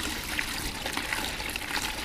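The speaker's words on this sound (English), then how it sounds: "Add water." Water poured into a green plastic bait bucket, a steady close trickle and splash running for about two seconds with no talking.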